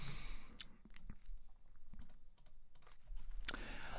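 Typing on a wireless Apple keyboard with uniform-feeling keys: a run of close, light key clicks in an uneven rhythm, with faint mouth sounds mixed in.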